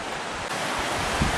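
Sleeping Child Creek rushing through a steep canyon in Montana's Bitterroot Valley, a steady, close, broadband hiss of flowing water mixed with some wind buffeting, no voices.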